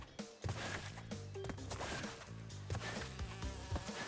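A swarm of bees buzzes in Crash Bandicoot: Cortex Strikes Back, from the N. Sane Trilogy, a wavering insect drone mixed with bouncy game music and short effect hits.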